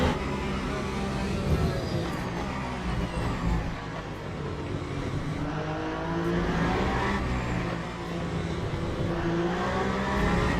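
A race car in the sim racing game Le Mans Ultimate at Imola roars under full throttle, its engine droning steadily with rising and falling pitch sweeps as it accelerates, loud and continuous throughout.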